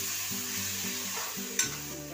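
Chopped tomatoes cook in frying masala for egg curry, giving a soft, continuous sizzle. Low stirring scrapes sound under it, and a single sharper clink of a spoon on the pan stands out.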